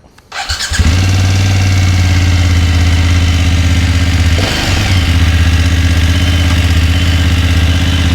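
A BMW F900 GS motorcycle with a stock Akrapovic exhaust and 270-degree firing order fires up after a short crank, then settles into a loud, close, steady idle with a brief blip partway through.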